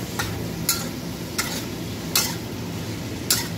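Adobong sitaw sizzles in a pan over a low, steady fry while a utensil scrapes and taps the pan about five times at a loose, irregular rhythm, close by with no talking.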